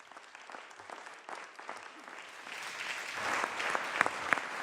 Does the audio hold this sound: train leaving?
no